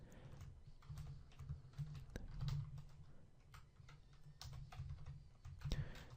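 Soft, quick clicks of a computer keyboard as PHP code is typed, irregular bursts of keystrokes with short pauses, faint and close over a low room hum.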